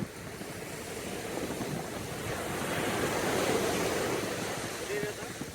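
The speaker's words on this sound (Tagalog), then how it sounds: "Ang ganda ng dagat." Sea waves wash steadily onto Hacsa Beach at low tide, a broad continuous surf roar that swells toward the middle, mixed with wind buffeting the microphone; a faint voice surfaces once.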